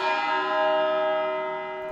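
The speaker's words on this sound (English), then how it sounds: "funeral bell." A funeral bell tolls a single sustained, ringing stroke with rich overtones that slowly decays.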